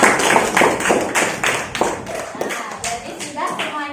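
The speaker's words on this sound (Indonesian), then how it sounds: "Tepuk tangan buat Sami." A classroom of pupils applauds after a presentation in a Quran recitation lesson. Loud, close group clapping falls into a brisk rhythmic beat, mixed with some voices.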